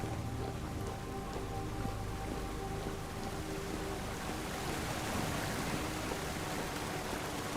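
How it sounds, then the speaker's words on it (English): Waterfalls in the video game Vintage Story roar as a steady, faint broadband rush of falling water, continuous and unchanging throughout, with no voices. "You hear the waterfalls."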